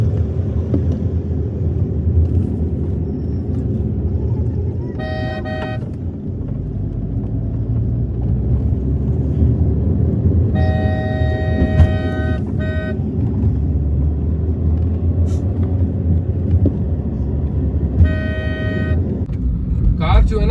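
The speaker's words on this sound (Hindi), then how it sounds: "चलिए अब कार को सिटी में चला कर देखते हैं।" A CNG car drives through city traffic, its engine a steady low rumble with passing vehicles around it and several bursts of car horns honking nearby. A voice talks over the sound throughout.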